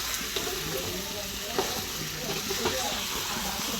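Meat coated in masala sizzles in a pan while being stirred, giving continuous close frying hiss with occasional scraping knocks and no talking.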